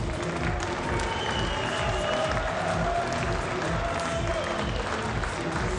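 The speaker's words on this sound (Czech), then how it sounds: "Nejprve potlesk oběma borcům za skvělý zápas." Audience applause with some cheering for two fighters after a Rebuy Stars Fight Night bout, a steady dense crowd roar lasting throughout without a break.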